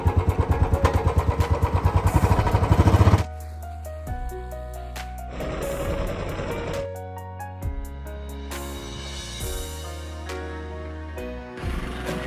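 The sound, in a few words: motorcycle being ridden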